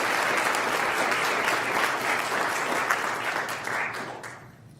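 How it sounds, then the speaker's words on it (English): Sustained applause from a crowd at a college governing board meeting, dense and steady before tapering off at the end. "Let's give them a round of applause if we were watching this one."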